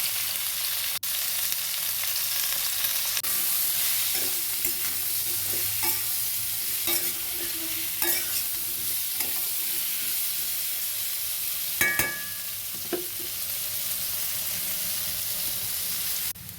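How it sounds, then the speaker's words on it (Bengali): Potatoes frying in a pan with turmeric and salt, a steady close sizzle and hiss punctuated by occasional stirring scrapes and clinks. "আলু ভাজা হয়ে গেছে।"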